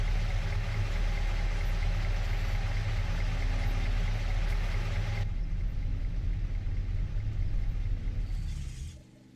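An International pickup truck engine idles in Farming Simulator 25, a loud, steady low rumble that holds for several seconds, its tone shifting midway before fading out at the end.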